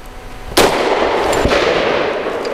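A Grand Power P45L .45 pistol fires one sharp, loud, close shot, followed by a sustained rush of noise and a softer second crack about a second later.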